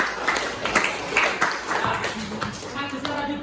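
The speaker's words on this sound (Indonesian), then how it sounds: "Bagus, tepuk tangan." Students clap in a classroom lesson, a steady patter of applause lasting a few seconds with a voice speaking over it.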